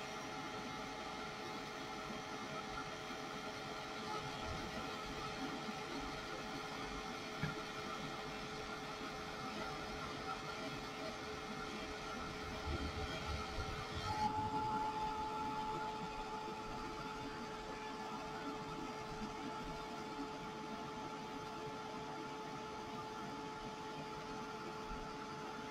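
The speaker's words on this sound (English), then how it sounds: "Going to stop that heat tool for a minute." A heat gun blows steadily over a thick MDF Christmas bauble ornament, giving a constant close whooshing hum with no talk. The tone shifts partway through, then continues evenly.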